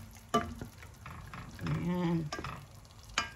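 Sardines and egg sizzling in a frying pan while being stirred, with sharp utensil scrapes and clinks over a soft continuous fry and a brief spoken word.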